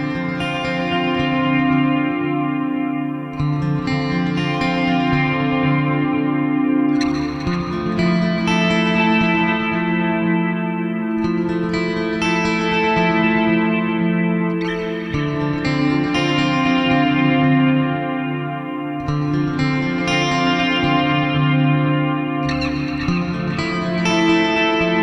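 Ambient electric guitar through humbucker-sized single-coil pickups in the middle position, drenched in reverb, echo and chorus: washy sustained chords swell and repeat in slow cycles, each strum blooming and decaying into a shimmering wet tail.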